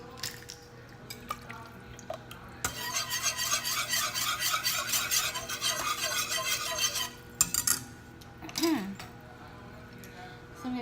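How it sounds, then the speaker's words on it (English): Whole jar of tomato sauce poured into a hot pan for low-carb Tex-Mex enchiladas, a steady wet sizzling and bubbling rush lasting several seconds, then scraping and clinks of a utensil against the pan. "I'm gonna go ahead and add in my tomato sauce, and I'm gonna go ahead and just add in the whole jar"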